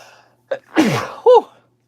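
A single sharp sneeze, preceded by a quick inhale, close and loud in an otherwise quiet space.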